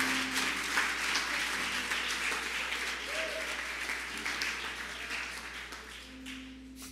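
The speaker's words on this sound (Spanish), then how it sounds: "Un aplauso a la pastora que está con nosotros" A church congregation claps steadily for a pastor. The applause is a dense, continuous wash of many hands at moderate distance that carries on for several seconds and fades slightly near the end.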